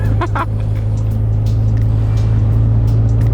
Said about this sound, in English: It's shifting gears.